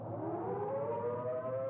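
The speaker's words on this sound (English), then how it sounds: "The signal is a long, steady blast on the civil defense sirens or other warning devices." A civil defense warning siren sounds a long, steady blast, its tone holding level and loud throughout with no voices over it.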